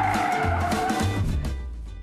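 A modern Polo GTI thrown through a rally slalom, tires squealing and skidding over the engine note as it swings between cones, close and fairly loud before easing off toward the end.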